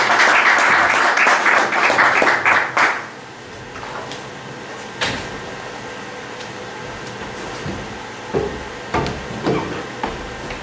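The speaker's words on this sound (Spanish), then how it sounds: "Hombre, también un aplauso para vosotras" Audience applause at a talk: a burst of clapping from a crowd for about three seconds that quickly dies away, followed by scattered thumps and faint room noise.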